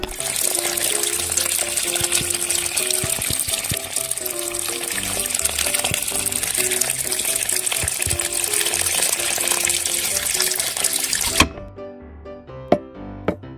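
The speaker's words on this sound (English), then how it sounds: "Rinse fish pieces under running water." Steady rushing tap water pours continuously over fish pieces in a miniature kitchen for several seconds, loud and close, then cuts off, leaving a few faint clinks and knocks.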